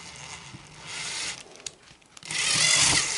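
A drill bores into a wooden speaker baffle during a speaker installation, giving a close, loud grinding and rubbing with a pause midway before the bit bites in harder and louder.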